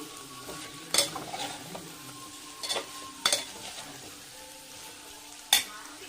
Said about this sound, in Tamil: போட்டுட்டு நல்லா கிளறிக்கணும்